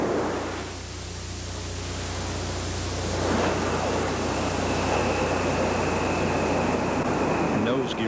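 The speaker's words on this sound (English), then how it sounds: "Discovery now rolling out on runway 15 at the Kennedy Space Center" Space Shuttle Discovery rolling out on runway 15 at Kennedy Space Center after nose gear touchdown, a broad, steady roar and rush of wind and engine noise, with a voice speaking over it.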